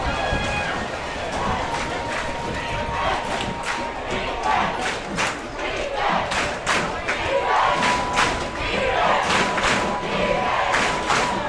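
A dense home crowd roars and shouts continuously at a high school football game between Iowa Colony and Richmond Randle, loud and sustained, with scattered yells and thumps rising out of the din.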